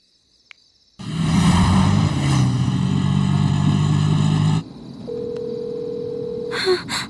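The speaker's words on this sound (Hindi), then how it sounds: "इतनी रात में किसका फोन आ रहा है?" Phone ringing late at night, heard alongside a loud, sustained vehicle engine drone that cuts off abruptly, followed by a steady electronic tone and a few brief bright chirps.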